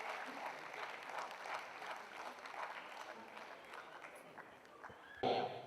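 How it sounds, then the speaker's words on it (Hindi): Faint audience applause at a university Teacher's Day ceremony, a steady patter of clapping in a hall that trails off, followed by a short sharp noise at the end. "जोरदार तालियां।"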